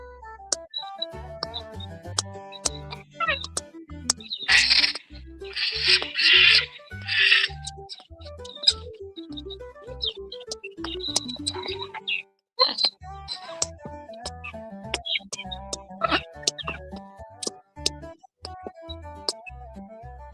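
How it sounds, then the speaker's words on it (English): Loud, busy chorus of cockatoos screeching and squawking in bursts, with sharp repeated calls layered over background music. "all the pretty birds and the fucking noise they make"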